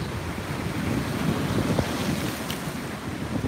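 Strong wind blasting across a seashore during shore fishing for striped bass, a loud constant roar buffeting the microphone with surf noise beneath.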